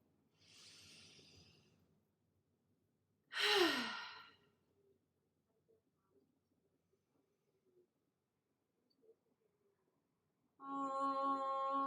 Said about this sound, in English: First, a cleansing breath.